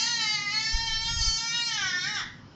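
Recorded baby's cry played back, one long sustained wail with a strained, wavering pitch that drops and fades at the end, fairly clear and with no talking over it.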